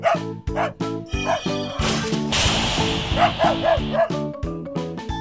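A dog barks and yips several times over a rhythmic musical backing, with a brief burst of noisy clatter in the middle.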